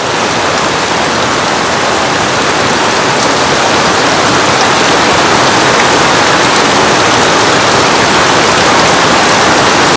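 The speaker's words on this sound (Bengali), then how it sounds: "বাইরে জোরে বৃষ্টি আইছে দেখেন" Heavy rain pours outside in a loud, dense, unbroken roar of water that stays steady throughout with no voices.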